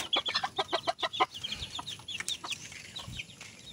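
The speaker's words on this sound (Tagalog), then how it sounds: "Ito po ang manok ko." A native Filipino chicken clucks close by in a quick run of sharp, repeated calls, then quieter scattered clucks over a low background hiss, with no speech.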